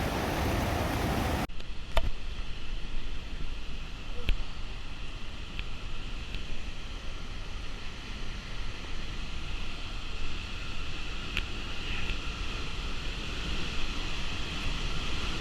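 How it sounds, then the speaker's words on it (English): Steady rushing roar of a big waterfall crashing inside a cave in Scotland, broadband and constant with spray hiss, close and enveloping, with no voices. "the velocity of the water was so high, you couldn't really see because of the spray was so much"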